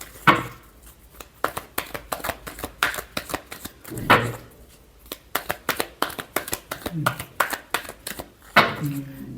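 Tarot cards are shuffled repeatedly in quick, crisp riffling bursts close by, with short pauses between bursts and a voice speaking faintly now and then.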